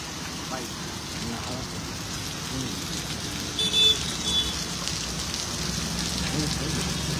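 Heavy rain falls steadily across Vadodara at night, a dense continuous hiss of drops on surfaces, with a few brief louder bumps partway through and faint speech underneath.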